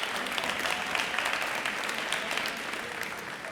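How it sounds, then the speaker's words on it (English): A room of guests at a high school college signing ceremony gives teachers a round of applause, a steady fairly soft patter of many hands clapping, slightly fading toward the end with no speech. "give you a round of applause"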